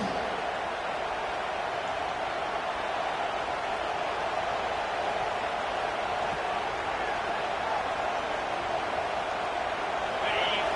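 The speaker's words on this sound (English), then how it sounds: "This crowd, full throat, splitting the eardrums" A stadium crowd roaring in a College Football 26 video game against Tennessee, a dense, loud, unbroken wall of cheering noise that holds steady throughout.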